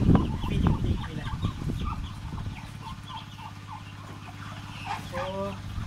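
Rhode Island Red chickens in a farm pen, a flock clucking and chattering close by, with a few louder squawks early and a low steady hum running underneath.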